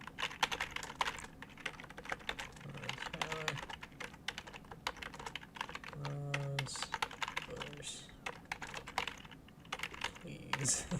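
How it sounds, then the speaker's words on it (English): Typing on a computer keyboard, a steady run of close, rapid key clicks with uneven rhythm continuing for the whole stretch over a faint background hum. "I'm going to type a message."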